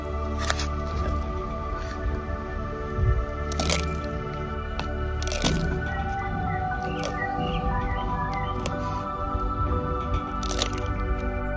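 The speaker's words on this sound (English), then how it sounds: "Here's a tortoise munching on a cactus." A tortoise bites into a cactus: repeated crunching and cracking bites, irregular and close, with wet chewing between them and faint bird chirps in the background.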